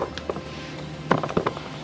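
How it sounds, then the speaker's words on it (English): Brackets for the steps on an old GM pickup truck being tightened, a few short metallic clicks and ratcheting creaks, close and irregular, with no talk. "Now I am trying to get these brackets tightened up for our steps."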